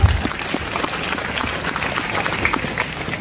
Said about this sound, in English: a great round of applause for all the teachers who are working for the students here